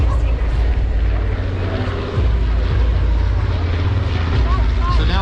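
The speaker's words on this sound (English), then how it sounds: "So here's one of the ones out of World War II. One of the older planes," A World War II-era propeller airplane passes overhead at a Huntington Beach air show, its steady, loud engine drone filling the air continuously with a slight swell as it goes by.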